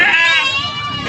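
A single close bleat from a native male goat being sold at a livestock price check in Padre Garcia, Batangas, a short loud wavering cry over faint crowd chatter.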